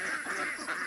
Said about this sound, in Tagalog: may pato. Ang dami pala nila.